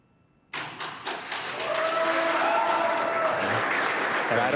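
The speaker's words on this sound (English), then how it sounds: "I don't know if you can hear the applause" Applause for the SpaceX Crew-1 Dragon capsule Resilience splashing down in darkness. It starts with sharp scattered claps and swells into sustained clapping from a room of people.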